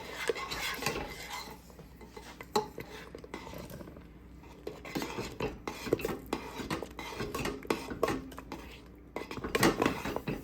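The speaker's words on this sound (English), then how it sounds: "So we need to keep stirring" Utensil scraping and clinking against a metal pot as thick apple pie filling is stirred, with irregular knocks and rattles, fairly close and moderately loud.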